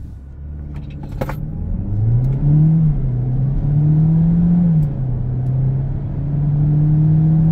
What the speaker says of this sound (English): Let's launch it and see what this engine is all about.